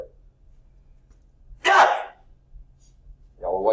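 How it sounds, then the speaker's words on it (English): One loud, abrupt sneeze bursts out close to the microphone in a quiet classroom with a low background hum, followed shortly by the start of a voice. "Got to sneeze, sorry."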